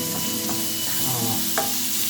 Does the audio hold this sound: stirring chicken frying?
yes